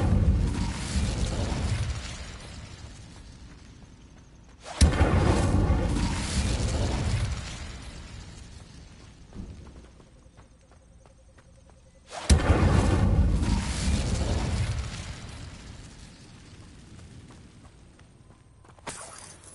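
The Incendio fire spell is cast in Hogwarts Legacy with two sharp, loud bursts. Each one flares into a roaring crackle that slowly fades, and a quieter hum fills the gaps between the blasts.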